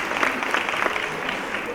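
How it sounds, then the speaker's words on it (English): Audience clapping for the evening's MC at an awards ceremony, a continuous, even patter of many hands at moderate volume from a seated crowd. "Please give her a big round of applause."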